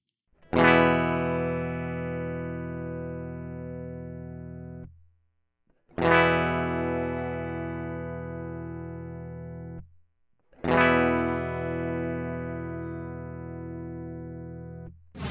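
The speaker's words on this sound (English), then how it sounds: "At this moment, I have no plugins activated in my DAW and you will be just hearing dry guitar signal." A clean, dry electric guitar signal runs through long cables and a pedalboard, with no effects added. Three chords are struck close up, one after another, each ringing for four to five seconds before it decays and is cut off.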